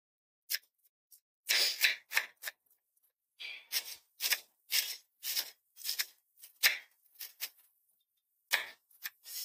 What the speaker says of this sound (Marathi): चला आपण आता इथे कांदा चिरून घेऊया